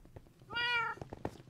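A single clear cat meow sounds in a Minecraft game, one mid-length call standing out over faint clicks and soft game noise.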